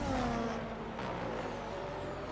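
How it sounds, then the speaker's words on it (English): Formula 1 cars in the video game F1 25 drone and rumble continuously, with rough thumps from tyres running over kerbs mixed into the engine noise. "It's them hitting the curbs."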